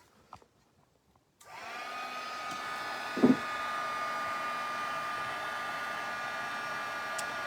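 A hair dryer dries gold gilding on a teacup, switching on after a brief quiet and then blowing as a steady, close, continuous whir to the end, with a short knock partway through.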